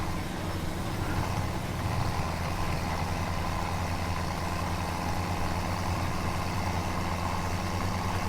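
A steady low engine drone from a tractor climbing a hill in Farming Simulator 17 with a trailer behind, constant and unvarying throughout, heavy rumble with no voices.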